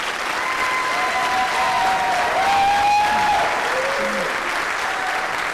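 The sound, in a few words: graduation audience applause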